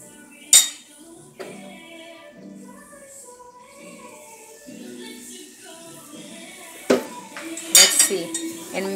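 Butter melted in a pan with a little milk being stirred in, a metal utensil clinking and scraping against the cookware in soft, intermittent bursts with a few sharper knocks, close by in a home kitchen.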